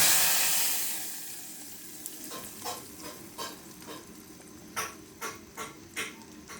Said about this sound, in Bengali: এখন ভালো করে ভেজে এই তো আমার ফোড়নটা রেডি হয়ে গেল। এখন ঢেলে দেব।